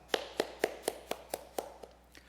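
About nine evenly spaced hand claps ring out in a church congregation celebrating a member's birthday, crisp and moderately faint, fading slightly toward the end.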